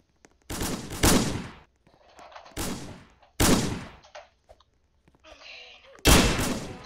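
Gunfire in the Roblox video game: four loud, close bursts of rapid shots, each fading over about a second, separated by quieter gaps with faint clicks and game sounds.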